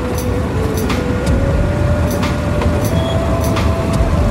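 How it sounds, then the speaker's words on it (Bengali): A train runs alongside during a motorcycle ride on a village road, giving a loud, steady rumble with periodic clacking and a faint whine. "কত সুন্দর পাশ দিয়ে ট্রেন যাচ্ছে"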